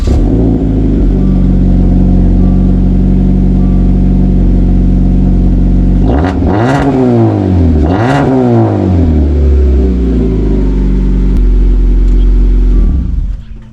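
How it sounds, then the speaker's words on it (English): A 2016 Dodge Dart fitted with a Summit Racing exhaust kit idles loud and close with a deep steady rumble, then revs sharply twice, each climb and fall distinct, before settling back to idle. "And those sounds were brought to you by Summit Racing Exhaust Kit."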